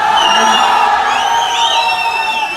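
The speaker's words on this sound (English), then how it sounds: "Can we have a huge round of applause for him, please?" A crowd cheers and whoops for the principal at a college graduation day, a loud, sustained wash of shouting voices with high whistles and calls that holds steady, then thins slightly toward the end.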